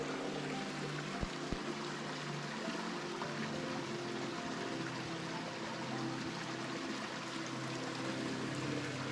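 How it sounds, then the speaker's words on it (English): A mountain stream flows steadily beneath a small bridge in a continuous soft rush and burble, with no voices and nothing else breaking the even sound. "I like to just sit here on this little bridge and watch the water flow"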